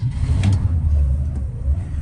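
A 1963 Mercury Meteor engine, started with the key, runs as a loud, steady low rumble that swells briefly as it catches, then settles into a continuous idle with no talking over it.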